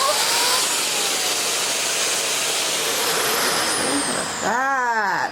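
A Eureka Floor Rover upright bagless vacuum cleaner runs with a loud, steady broadband whir and hiss throughout, its motor note rising briefly near the end.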